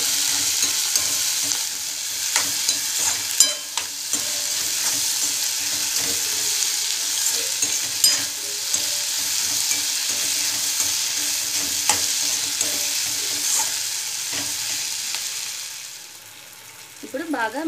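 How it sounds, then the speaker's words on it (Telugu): Brinjal pieces sizzle steadily in a hot pan while a spatula stirs them now and then with soft scrapes and taps, the frying hiss continuous until it briefly drops near the end. "మనం వేయించుకుంటే బాగుంటుంది।"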